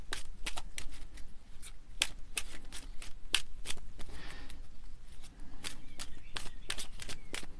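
A deck of cards being shuffled and cut up close: repeated crisp riffling bursts and snapping card flicks in a steady rhythm, fairly quiet, with no talking.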